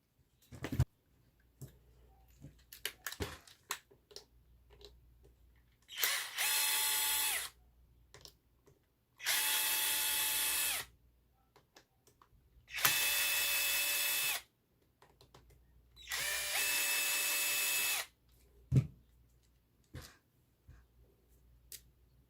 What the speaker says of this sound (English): you got to take out the Phillips head and these four Phillips head countersunk screws on the bottom as well